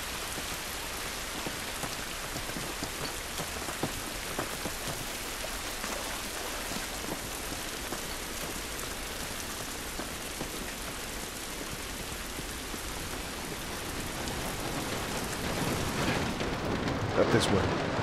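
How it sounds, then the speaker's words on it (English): Steady rain falls outdoors in The Last of Us, a dense, even hiss of drops on surfaces that continues throughout and swells slightly toward the end. "This rain ain't gonna do us any good."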